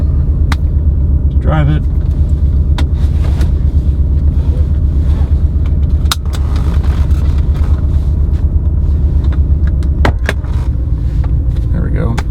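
A 1993 Mercedes 500E's engine idles as a loud, low, steady rumble with the revs settling, heard close over wind buffeting, with brief clicks and a short whine and someone speaking briefly.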